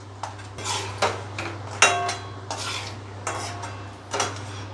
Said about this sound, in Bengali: এবার অল্প একটু অ্যালমন্ড ভেজে নেব।